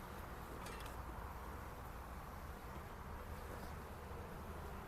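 Honeybees buzzing around a hive entrance as guard bees come out, a soft continuous droning hum with no talk, faint and steady, with a slightly louder buzz passing close early on.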